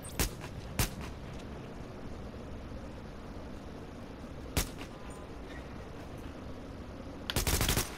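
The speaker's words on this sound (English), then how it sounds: "why are you shooting people?" Bursts of video game gunfire in Tom Clancy's The Division: a few sharp isolated shots early on, one more near the middle, then a rapid volley at the end, all over a low steady background hum.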